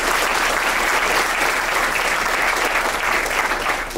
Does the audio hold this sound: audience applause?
yes